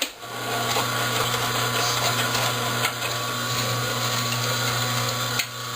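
An Omega 8003 juicer pressing tomatoes runs with a steady, close mechanical hum. The drone holds at an even level throughout, with a few faint knocks and clicks from the machine and no voices.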